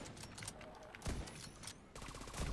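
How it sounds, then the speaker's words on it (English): Gunfire rattles in the video game The Division 2 as bursts of shots crack out in quick succession during a battle, with a player talking over the action. "Oh, he's already shooting guys down."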